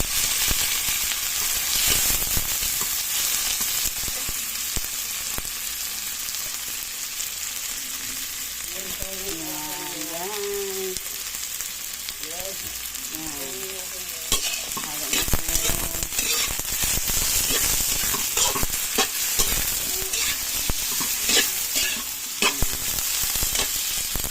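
Onion and tomato for kangkong adobo fry in a pan under a steady sizzle, stirred in repeated scraping strokes, with a short stretch of muffled voice in the middle.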